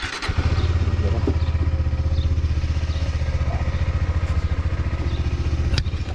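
A motorcycle engine drones loud and close on an off-road mountain route from Pangong to Hanle, a steady, throbbing pulse with light rattling throughout.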